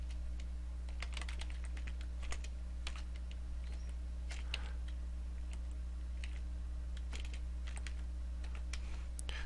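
Keys clatter on a computer keyboard as someone writes a C++ program, a steady stream of quick, light clicks over a constant low hum, close by and without speech.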